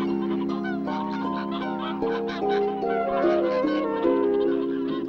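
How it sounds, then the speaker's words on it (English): A flock of whooper and Bewick's swans calls continuously with honking, trumpet-like notes that overlap and shift in pitch, loud and close, with no voices. "trumpet-voiced flocks of hooper swans and Buick swans"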